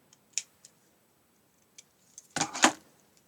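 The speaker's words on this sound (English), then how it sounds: "I'm going to snip the ends off so they're nice and tidy" Scissors snip off thread ends on a scoreboard craft piece: a few sharp isolated clicks, then a quick pair of louder close cuts, with no talking.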